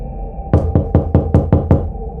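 A door is knocked on seven times in a quick, even series, loud and close with sharp raps against a quiet room.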